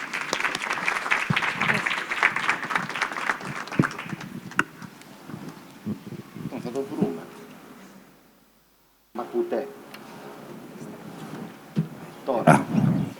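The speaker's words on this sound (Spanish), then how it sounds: "Un aplauso para ellos" An audience applauds at a book presentation, with clapping strongest at the start and tapering off, followed by a brief silence, then scattered room noise and movement.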